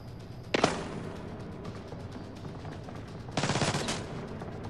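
Gunfire in the stealth shooter game Splinter Cell: Blacklist, two sharp bursts of rapid shots about three seconds apart, loud against a low, steady game ambience with no talk.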